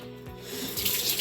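Cold water poured over a person's head during a playful family challenge, a brief close splashing rush like a running tap, with no voices.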